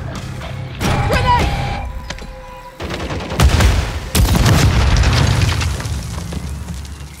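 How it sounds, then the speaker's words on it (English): A grenade explodes in Call of Duty Warzone amid combat gunfire, with loud booms and crackling shots close by in quick bursts and a few faint voices underneath. "Grenade!"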